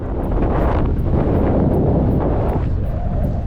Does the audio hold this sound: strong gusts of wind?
yes